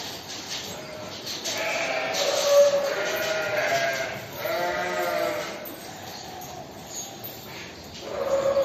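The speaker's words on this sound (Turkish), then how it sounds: "hayvanların yem yemesi ya bir din bir terapi" Sacrificial livestock, likely sheep, eat feed at a sale pen, with soft munching and rustling, occasional bleats and a distant dog-like call over a steady background.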